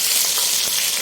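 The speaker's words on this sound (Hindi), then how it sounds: "ये 1 चम्मच लहसुन और अदरक का पेस्ट घी में शामिल कर दूँगी" A spoonful of garlic and ginger paste hits hot ghee, left over from frying okra, and sets off a loud, bright, unbroken sizzle right up close for a brief moment.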